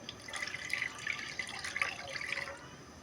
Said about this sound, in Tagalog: Lagay natin yung suka.